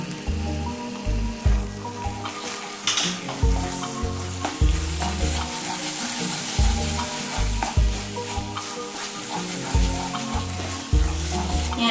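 Wheat rava kesari is stirred in a hot pan, with steady sizzling under repeated scraping strokes of a spoon that come in a regular rhythm, close and moderately loud.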